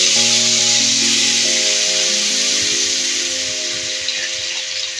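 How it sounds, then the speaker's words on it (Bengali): Water poured into a hot pan of frying potatoes and eggplant sets off a loud, steady sizzling hiss with a rush of steam. It lasts the whole stretch, over a faint tonal hum. "এবার জল দিয়ে দিচ্ছি।"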